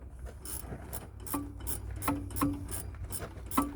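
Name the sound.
tightening nut on 96 Geo Tracker shock absorber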